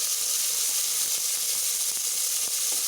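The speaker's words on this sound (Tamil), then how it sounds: "இப்போ நம்ம கட் பண்ணி வச்சுருந்த தக்காளியும் சேர்த்திக்கலாம்." Chopped tomatoes sizzle in a pan of golden-browned onions while cooking chicken biryani, a steady close hiss of frying with faint crackles throughout and no talk.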